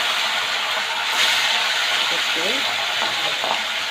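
Fish fry in hot oil in a wok, a steady close sizzle and hiss running the whole time, with faint stirring clinks and a voice in the background.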